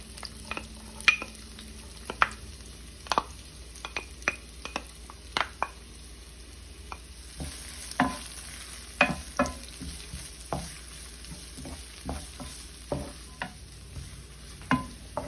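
Garlic frying in a pot with onion for Dominican saltfish sancoche, a low sizzle under sharp intermittent clinks and scrapes of a utensil against the pot, close and irregular, with no talking.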